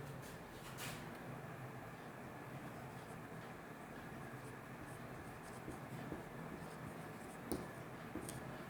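Writing on a board during a maths lesson makes faint scratchy strokes and taps over a low background rumble in a quiet classroom.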